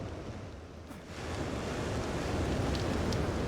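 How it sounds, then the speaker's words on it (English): Wind gust in the video game The Knightling, a steady broadband whoosh of rushing air that swells slightly after a brief dip and keeps blowing, loud and continuous with no voices. "And there's a gust here."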